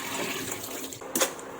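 Salted, sliced bitter gourd is rinsed with clean water in a home kitchen: a low background hiss, then a brief gush of running water near the end.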